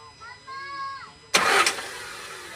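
An overhauled Isuzu 4JJ1 diesel engine cranks and catches with a sudden loud burst. A faint tonal whine and quiet voices come first, then the engine settles into a steadier running rumble.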